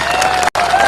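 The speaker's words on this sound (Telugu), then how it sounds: "గట్టిగా చప్పట్లతో స్వాగతం పలకాలి వారికి." Crowd at a political rally in Telangana claps to welcome a speaker, loud dense applause with a cheering edge, briefly cut by a split-second dropout.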